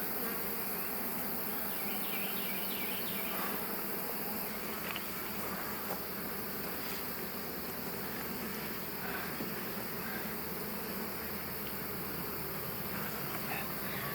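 Honey bees drone steadily at an open hive crowded with swarm cells, a dense, continuous buzz close by with individual insects flitting past, no voices.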